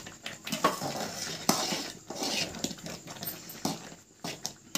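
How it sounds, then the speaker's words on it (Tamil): Rava kichadi being stirred in a pan over a low gas flame, with irregular close scrapes and clinks of a spoon against metal coming in uneven bursts, no talking. "இந்த மாதிரி நல்லா கிண்டி விட்டே இருங்க, அப்போதான் ரவை கொஞ்சம் வெந்துடும்."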